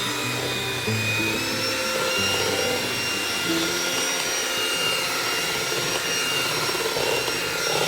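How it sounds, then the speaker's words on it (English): An electric mixer runs steadily, whipping a sugar-free keto cheesecake filling for a microwave turtle cheesecake; the motor whine is continuous and close, with its speed rising and dropping in steps and no one talking. "you want to mix this until it's fluffy, just gradually cranking your speed up."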